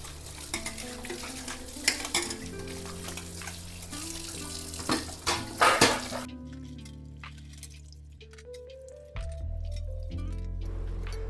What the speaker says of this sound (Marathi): थोडी भांडी पडली होती ती घासली आणि आता धुवून घेते